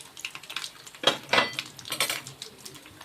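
Fried fish pieces are turned in a pan of hot oil, with close metal scrapes and clinks against the pan over a faint background sizzle.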